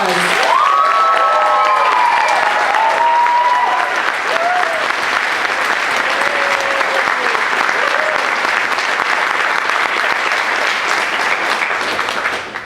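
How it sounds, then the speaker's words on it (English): A commencement audience gives graduating seniors a big round of applause, loud sustained clapping from a large crowd with a few cheers early on, fading at the very end. "Let's give them a big round of applause."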